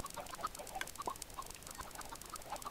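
Chickens in a Minecraft XP farm cluck faintly in scattered short blips, many birds overlapping in a quiet, busy patter.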